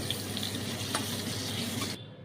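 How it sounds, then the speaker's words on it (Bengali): Potatoes frying in hot oil with a little turmeric, a steady close sizzle with light stirring, cutting off abruptly near the end. "আলুগুলো লাল করে ভাজা হয়ে গেছে, তেল থেকে এগুলো বার করে নেব।"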